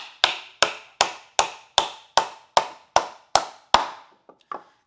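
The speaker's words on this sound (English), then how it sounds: "So we'll go ahead, we'll nail up 2 of these" Ten evenly spaced hammer blows drive nails into a wooden bench runner, each a sharp close knock with a short decay, followed by two fainter taps.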